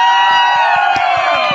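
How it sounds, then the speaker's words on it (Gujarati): A crowd gathered for a visiting personality in Lunawada cheers and whoops loudly for an elderly man, with rhythmic clapping and shouts, a dense close roar. "દાદા માટે જોરદાર તાળી થઈ જાય"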